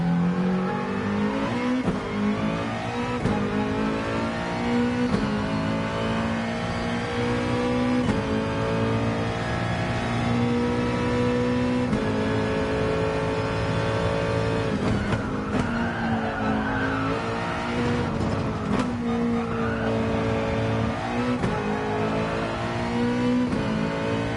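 A Mazda race car in a touring cup racing video game revs steadily through corners at the Dragon Trail Gardens circuit, with a continuous loud engine drone, shifting pitch, gear changes and brief tire squeal throughout.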